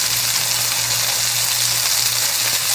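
Butter melts in a hot pan for spicy garlic shrimp, giving a steady, even sizzle and crackle that holds without a break, up close and with no voices.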